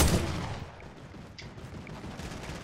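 Turret gunfire in Fortnite crackles in a dense, loud opening burst, then settles into a rough, steady rattle of distant shots.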